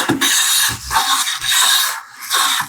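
A vintage Stanley No. 5 hand plane takes thin shavings off wood in quick, light strokes: close, airy rasping swipes, each about half a second long, with short gaps between them and no speech.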